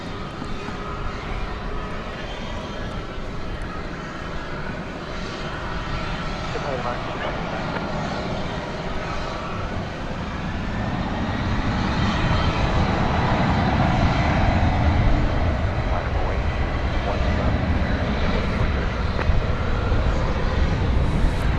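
Airliner taking off from runway 18 left at DFW Airport at night, a broad jet roar building louder midway and holding steady, with voices talking over it.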